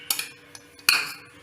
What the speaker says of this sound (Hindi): मूंग की दाल में टमाटर डालेंगे